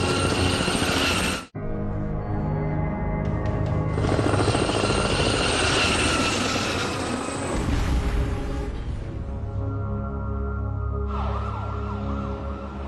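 A helicopter flies overhead with a loud, steady rotor and engine roar that cuts out briefly and returns, joined by a wavering siren-like tone toward the end.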